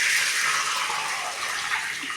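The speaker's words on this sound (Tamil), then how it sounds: "இப்போ வந்து தண்ணி விட்டுன்றலாம்." Steady stream of water splashing and gushing into a cooking pan for rava upma, continuous and close for a couple of seconds with no talking.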